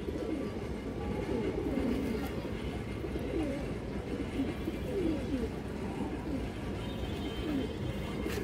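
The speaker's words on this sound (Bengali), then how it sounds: "এই যে মাদিরা দেখেন দর্শক, খুবই সুন্দর কবুতর কিন্তু দর্শক এগুলা" Pigeons, including females, coo in a low, continuous murmur of repeated throaty calls, steady and fairly close, with faint background noise and no speech.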